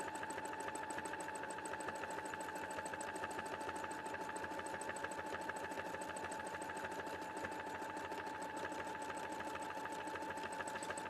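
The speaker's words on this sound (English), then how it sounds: "So we're sewing forwards and back." Sewing machine with a darning foot fitted stitches forwards and back in a steady, fast, unbroken mechanical chatter, close and even for the whole stretch, with no voices.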